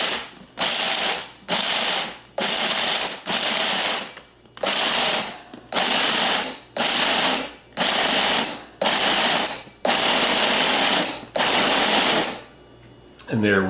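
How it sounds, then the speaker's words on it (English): Food processor chopping toasted almonds in a rapid series of about ten short, loud pulses, each a second or so long with brief gaps between, ending in a longer quieter run. "now I'm going to chop them. The way to chop them is in your food processor"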